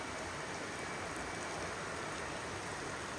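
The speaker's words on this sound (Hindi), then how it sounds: "बारिश ने तो आज सारे प्लान ख़राब कर दिए हैं।" Rain pouring down in Jaipur, Rajasthan, heard as a constant, unbroken hiss at a steady moderate level for the whole stretch, with no voices.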